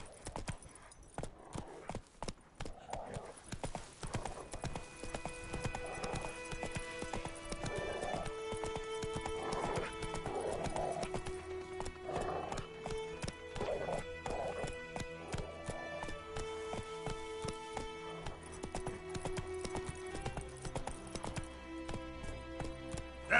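Hooves of a galloping horse beat in a fast continuous clip-clop, close and steady, mixed with musical tones and an occasional neigh.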